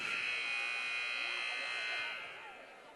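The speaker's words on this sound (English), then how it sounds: "buzzer's about to go off" A long, loud electronic basketball buzzer in a high school gym drones steadily, then cuts off and leaves faint room noise trailing behind.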